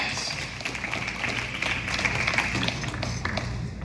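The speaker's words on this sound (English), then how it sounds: "That deserves a little bit of cheer. Loud cheer. Standing ovation." Crowd applause and cheering at a political talk, a steady dense wash of clapping and voices filling the whole stretch at an even, moderately loud level.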